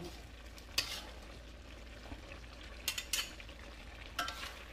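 Mushrooms being stirred into a thickened spice paste in a pan over medium heat, with a steady low sizzle under a few sharp scrapes of the utensil against the pan.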